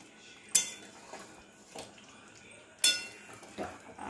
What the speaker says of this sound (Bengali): আস্তে একটু নাড়িয়ে দিতে হবে, মশলাগুলো যাতে একটু ভেতরে ঢুকে যায়